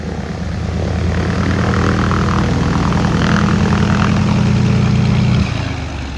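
A Britten-Norman Islander propeller plane passes overhead on its approach to Beaver Island, its loud, steady droning hum swelling in and holding for several seconds before cutting off sharply near the end.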